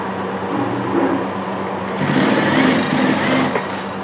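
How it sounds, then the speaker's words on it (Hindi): A sewing machine runs steadily while stitching a strip of fabric, a loud, close, continuous motor whir with rapid needle clatter that picks up slightly partway through. "लब की सिलाई चला रहे हैं, याद रखना।"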